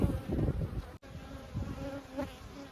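Honeybees buzz steadily at the entrance of a Layens hive as foragers return with pollen, a close, dense insect drone with no talk.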